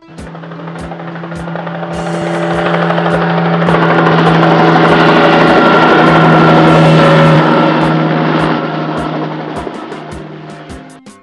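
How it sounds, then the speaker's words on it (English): A helicopter's rotor and turbine drone steadily with rhythmic blade thumping, swelling louder toward the middle as it passes close, then fading; no voices. "A helicopter."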